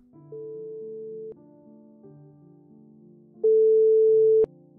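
Synthesized pure sine tone at a fixed pitch, sounded twice as about one-second steady beeps; the second tone is clearly louder than the first, with faint low hum between them.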